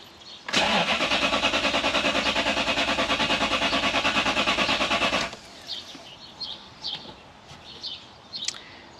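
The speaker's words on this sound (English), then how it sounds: "I've been chasing this problem that intermittently this vehicle won't start" A 2013 Toyota Hilux with a 3UZ engine cranks steadily for about five seconds with a loud, rapid rhythmic churn but never fires, then cuts off abruptly, leaving quiet outdoor ambience with faint birdsong.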